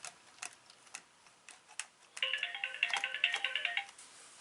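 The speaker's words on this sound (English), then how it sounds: "And that's the phone ringing." A phone ringtone sounds in a workshop during a chainsaw parts-kit build, a melodic electronic tune rising after quiet ticking clicks, fairly faint and steady for about two seconds.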